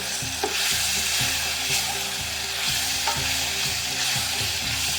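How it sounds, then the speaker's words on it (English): Stew ingredients with garlic and flour frying in a pan as a spoon stirs them, a steady close sizzle under a repeating scrape-and-knock rhythm of stirring, with no talking. "Try to stir this up one more time."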